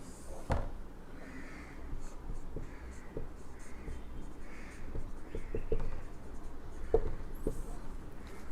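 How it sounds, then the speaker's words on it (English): Pen scratching across paper while writing out chemistry notes on preparing xenon fluorides, a steady close scribbling with a few sharper taps, low room noise beneath. "Now I will write preparations."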